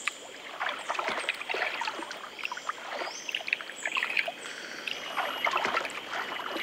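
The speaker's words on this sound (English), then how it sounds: "Letta shows Timper how to scoop water" Water splashes and trickles as a young orangutan scoops at it in a jungle setting, irregular sloshing bursts close by, with birds calling in the background and no speech.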